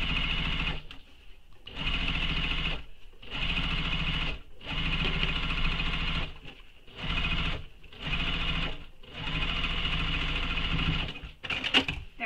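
A sewing machine runs in bursts over a shoulder bag seam being restitched, each run lasting about a second or two and broken by short pauses, close and clear, with a few clicks near the end.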